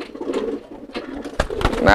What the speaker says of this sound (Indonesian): Nah ini nih merpatinya tuh